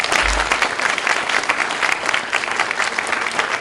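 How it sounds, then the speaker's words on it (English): A graduation ceremony audience gives a dense, steady round of applause for the facilities coordinator, many hands clapping close and loud throughout. "Give him a round of applause."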